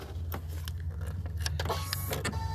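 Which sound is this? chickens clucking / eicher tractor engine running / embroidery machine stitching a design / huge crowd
embroidery machine stitching a design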